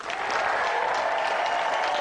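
A studio audience on a 1992 television game show applauds steadily, a dense, even burst of clapping lasting a couple of seconds.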